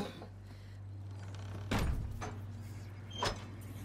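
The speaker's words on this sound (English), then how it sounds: "All right, help me with the door." A door heaved open in the medieval game A Plague Tale: Requiem, heard as a heavy thunk and scrape at mid-distance followed by a second softer knock, over a steady low ambient drone with no talking.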